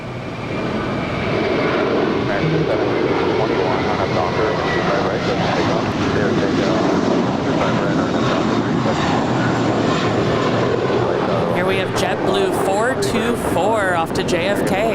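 A six-year-old Airbus A321 jet at LAX roars loudly and continuously, with the engine noise filling the whole stretch while people talk over it and radio chatter cuts in.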